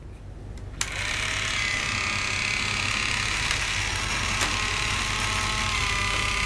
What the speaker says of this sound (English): Let's see if Trypticon will take a little walk.